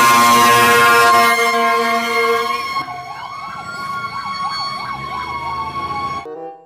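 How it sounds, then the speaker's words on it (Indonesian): A toy fire truck siren wails loudly and close, first a steady electronic tone, then a rapid rising-and-falling yelp that cuts off abruptly at the end. "Wow, mobil pemadam kebakaran teman-teman."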